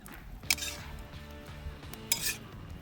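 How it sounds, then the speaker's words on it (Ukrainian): A spoon scrapes and clinks against a cauldron over an open fire as meat, sausage, onion and carrot for bograch are stirred, with two sharper metallic knocks standing out over a soft steady background. "Добре це все перемішуємо."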